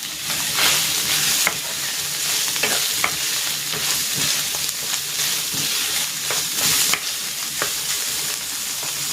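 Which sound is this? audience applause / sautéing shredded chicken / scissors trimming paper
sautéing shredded chicken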